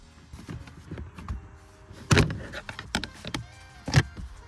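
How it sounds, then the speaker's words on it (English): A plastic trim cover pulled free from under the clutch pedal of a 2006–2011 eighth-generation Honda Civic, producing close scraping, creaks and several sharp plastic clicks and pops, heard alone. "Start with the twist clip, then pull on the cover and it should come out easy"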